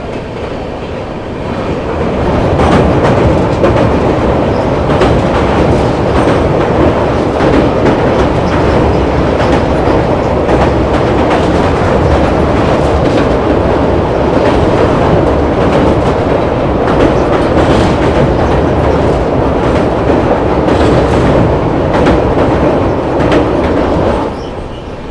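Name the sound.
MGR Chennai Central Gaya weekly superfast express train passing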